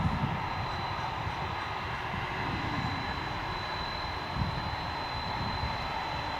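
American Airlines jet airliner engines at an airport, a steady moderate roar with a faint high whine running throughout, no talking over it.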